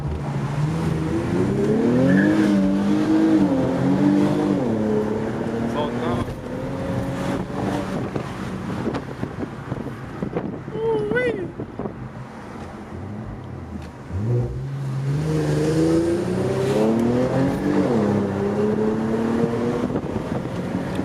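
A loud, power-modified Infiniti Q50 engine revs and accelerates through rising gear pulls, easing off midway with a whine, then roaring up again, close and throaty.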